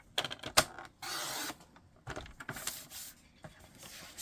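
Paper being trimmed for a scrapbook: quiet, close clicks and taps, then short papery swishes as a cutter slides through a sheet, each lasting about half a second.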